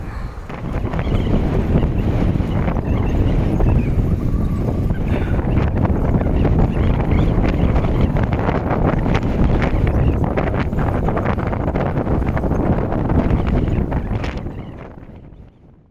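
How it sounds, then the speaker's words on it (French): Strong 70 km/h headwind roaring and buffeting against the microphone of a cyclist, loud and continuous with gusty thumps, fading out at the very end; no talking. "le vent il est tellement fort"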